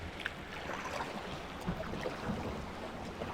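A kayak on the sea near the Munxar cliffs in Malta, with soft paddle splashes and lapping water against the hull, low and continuous with occasional small drips close by.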